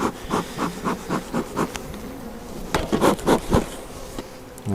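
Honeybees buzzing from an opened hive during a colony split, a close, steady drone with pulsing swells and a few louder passes near the microphone.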